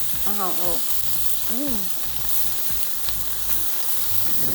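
Slices of pork roll sizzle in a frying pan with a constant close crackle, broken by a few short voice-like tonal sounds near the start.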